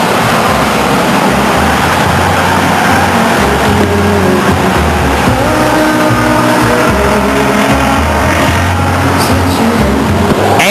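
Race cars racing at Stockton 99 Speedway in 1999, engines roaring continuously and loudly with overlapping revs and passing cars throughout, with no talk heard.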